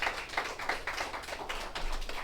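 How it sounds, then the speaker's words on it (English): Scattered clapping from a spoken word poetry event crowd, a light, uneven patter of hands that is fairly close and holds steady without building to a roar. "Get them a round of applause."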